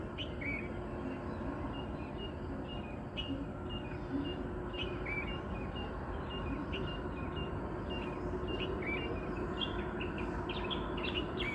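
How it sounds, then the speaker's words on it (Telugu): Parrots screeching at dawn around 5 a.m., repeated sharp calls scattered across the whole stretch over a constant low rumble of bypass road traffic. "5కి ఎప్పుడు లేచినా ఇలాగే చిలుకలు, చిలుకలు అన్నీ అరుస్తూ ఉంటాయి"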